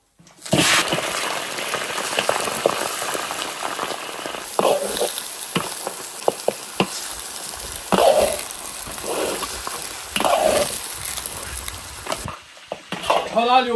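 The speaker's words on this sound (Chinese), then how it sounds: "炒大牛排变色，" Large beef ribs stir-fried in an iron wok with a little oil: a steady sizzle with intermittent scraping and clanking of the spatula against the pan, and occasional voices in the background.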